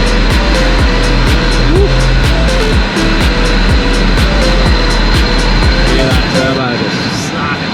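Modified Toyota Hilux with a turbo engine pulling hard under acceleration, a loud continuous roar with rising whooshing intake and shifting engine tones, while a person exclaims over it.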